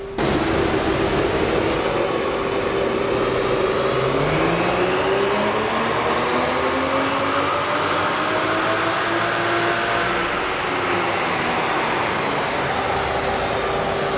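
A stock 2020 Toyota Supra's engine roars loudly under load on a dynamometer for a long stretch, its pitch rising steadily through the gears and then easing, with no voices.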